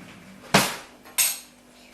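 A spoon for mixing melting chocolate knocks twice against a bowl or pan, two sharp close metallic clinks about half a second apart, each ringing out briefly.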